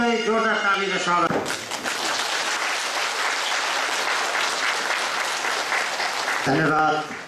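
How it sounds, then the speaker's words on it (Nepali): Loud, dense applause from an audience greeting a table drill performance at a VC Nite event in Hong Kong, a steady roar of clapping lasting about five seconds between stretches of amplified talk. "टेबल ड्रिललाई जोरदार तालीले स्वागत।"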